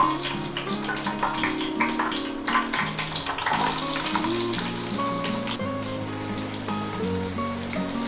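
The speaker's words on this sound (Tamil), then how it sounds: "வெங்காயம் போட்டுடலாம்" Onions drop into hot oil with whole spices for country chicken biryani, giving a loud, continuous sizzle and crackle that runs throughout, with a steady tonal hum underneath.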